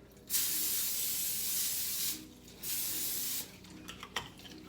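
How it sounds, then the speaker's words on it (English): Cooking oil sprayed from a can onto a pan, two close, loud hissing bursts, the first longer than the second, followed by a few light clinks. "spray the pan so that way none of them sticks as well"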